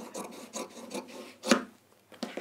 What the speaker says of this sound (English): Right, I'm going to trim this down.